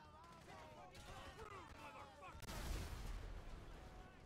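GTA V explosions and gunfire rumble in a low, continuous roar that swells partway through, with a voice talking faintly underneath.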